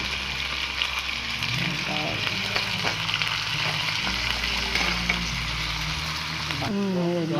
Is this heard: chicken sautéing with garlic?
yes